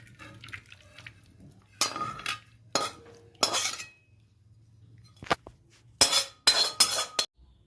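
Cooked Bengali-style pointed gourd curry being spooned onto a plate: a few short bursts of clinking utensil against dish and wet, soft liquid plops, separated by quiet pauses with a low background hum.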